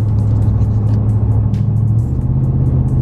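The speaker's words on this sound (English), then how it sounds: "You do kind of hear a little bit more induction noise." Hemi-powered Ram truck fitted with a Volant cold air intake, its engine running in a steady deep rumble with a low induction hum that shifts pitch slightly near the end, loud and close with no talking.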